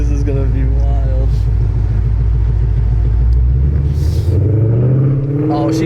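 A tuned Hades car engine pulls hard, a loud continuous rumble with rising pitch as it accelerates, with a voice talking over it.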